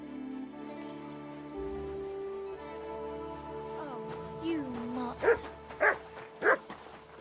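A dog in the medieval game Kingdom Come: Deliverance 2 barks in a few sharp, loud bursts near the end, following tonal music and ambient rain-like texture.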